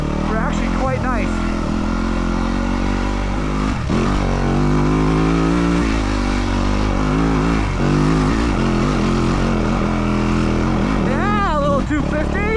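A 2025 Yamaha WR250F, a 250 dirt bike, climbs a steep Colorado mountain trail; its engine note rises and falls continuously, close and loud, with a brief dip near the start and again midway.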